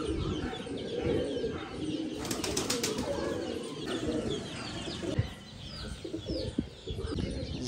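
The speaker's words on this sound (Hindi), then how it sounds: "तो ये हैं जी इस वक्त 80 कबूतर।" A flock of about eighty pigeons at a home loft coos in low, continuous murmurs, with flurries of wing flapping and a few brief chirps, close and steady throughout.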